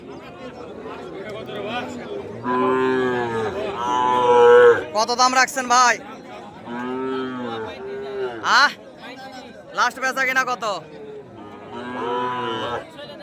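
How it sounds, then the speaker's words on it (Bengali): Sahiwal heifers at a cattle market moo in several drawn-out calls, close and loud, while people bargain and chat nearby. "এই যে পাশে এগুলা সব এগুলা শাহিওয়াল খামার উপযোগী বকনা গরু"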